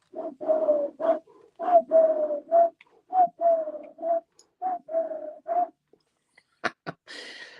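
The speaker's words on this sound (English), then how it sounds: "now I can hear a pigeon going" A pigeon coos in a steady run of low, hooting phrases, about a dozen in a rhythmic sequence, fairly close and clear, ending with a couple of sharper brief noises.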